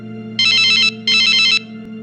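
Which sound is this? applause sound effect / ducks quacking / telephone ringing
telephone ringing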